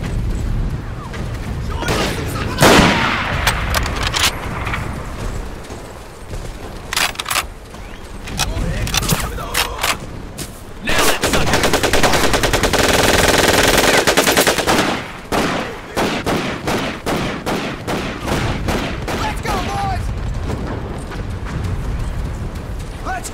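Rapid automatic gunfire and heavy booms from the video game Medal of Honor: Pacific Assault, on the Tarawa battlefield, rattle on steadily in dense bursts, with shouted voices mixed into the combat.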